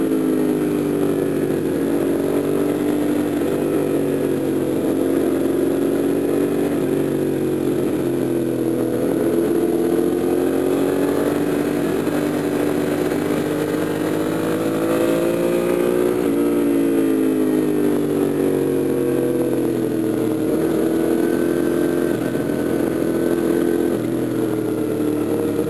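Touring motorcycle riding in a group ride in the Bay Area, with a steady loud engine drone that rises and falls with throttle and a sweeping pass near the middle, continuous and alone without talk.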